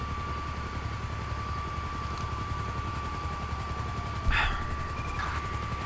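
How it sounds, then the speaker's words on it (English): A police helicopter in the video game Grand Theft Auto V drones steadily with a constant rotor hum throughout, joined by a brief sharp impact near the end. "the helicopter might actually spot me"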